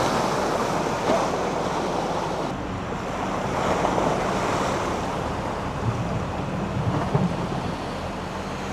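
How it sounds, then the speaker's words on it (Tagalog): Heavy storm surf crashing continuously in Leyte during a typhoon, a dense roar of breaking waves with wind buffeting the microphone, loud and close throughout. "Lakas talaga ng alon dito,"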